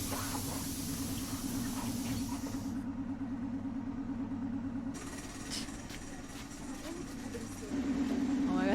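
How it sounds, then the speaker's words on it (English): Train riding along the rails, a steady rumbling roll with a droning tone and hiss, fairly continuous and growing louder toward the end, with a voice talking briefly over it. "Just a normal view from a train"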